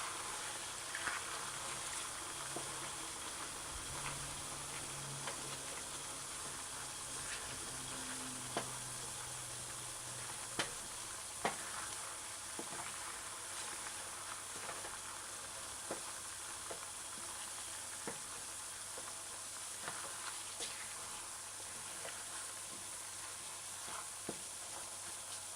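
Chicken pieces sizzle faintly in heating oil on a stovetop for a chicken broccoli stir-fry, with a constant low hiss and occasional soft clicks and scrapes from stirring and separating the pieces, and no voices.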